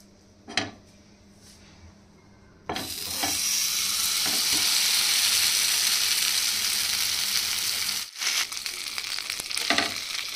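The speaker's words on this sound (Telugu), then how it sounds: "ఫ్రై కోసం ఆయిల్ వేడైపోయింది. ఇప్పుడు మనం ఫ్రై చేసేసుకుందాం." Pieces of pandugappa fish drop into hot oil in a pan. After a couple of faint clinks, a loud, continuous hiss of frying bursts in and holds steady, with a brief break and a few clatters near the end.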